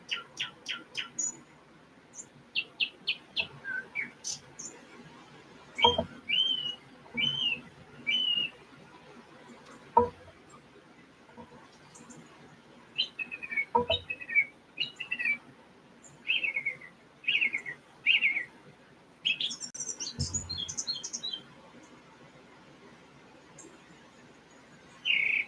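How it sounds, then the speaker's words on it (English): Outdoors, a bird gives repeated bright chirps and whistled notes in short bursts separated by pauses, fairly clear against a quiet background with no talking. "we got a bird out there, Debbie."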